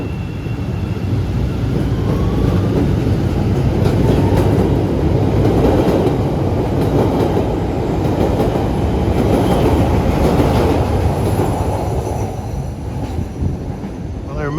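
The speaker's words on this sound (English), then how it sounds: "Here's a Dan Ryan train, train 921." A Chicago CTA Dan Ryan elevated rapid transit train rumbles past steadily on a rainy day, a loud, dense roar of wheels on track with faint rattling, no voices.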